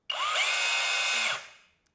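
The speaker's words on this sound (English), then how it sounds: "So we change the mode to drill, and there it goes." A Bosch GBH 18V-22 X cordless rotary hammer in drill mode spins up sharply, holds a steady high whine for about a second, then winds down, close and loud with no talking.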